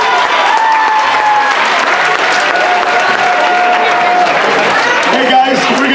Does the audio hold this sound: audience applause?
yes